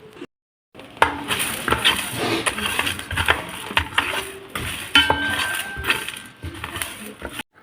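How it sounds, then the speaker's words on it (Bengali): Whole spices dry-roasting in a pan for a chicken kala bhuna masala, with a steady run of scraping, stirring and clinking of a utensil against the metal, close and fairly busy, with no talk over it. "মশলাগুলো ভাজে নিব"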